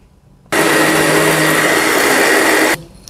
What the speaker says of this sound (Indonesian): Lalu kita blender lagi.